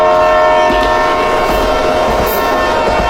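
A cartoon train at a station gives a loud, sustained mechanical rumble with a steady tonal hum and rail noise throughout.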